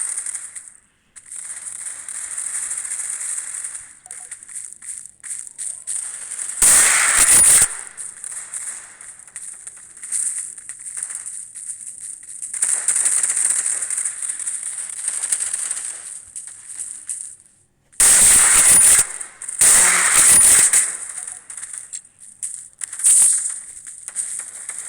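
Bursts of gunfire in a combat arena video game come in several sharp clusters between quieter stretches of high electronic tone, loud and close, with no talking.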